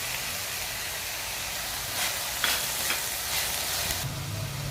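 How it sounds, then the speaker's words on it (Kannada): Capsicum and half-cooked onion frying in a pan, giving a steady close sizzle and hiss with a few soft stirring scrapes, and no one speaking. "ದಪ್ಪಮೆಣಸಿನ್ಕಾಯಿ ಹಾಕ್ತೀನಿ. ಅದು ಅದ್ರ ಜೊತೆಗೆ ಬೇಯಿಸ್ಕೊಳ್ಳುತ್ತೆ"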